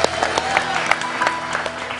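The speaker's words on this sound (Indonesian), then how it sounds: "Tepuk tangan dong buat manajer gua." A live audience breaks into brief, lively applause for a manager, with scattered claps and some voices mixed in over about two seconds.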